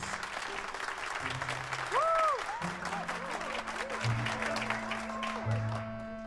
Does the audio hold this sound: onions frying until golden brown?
no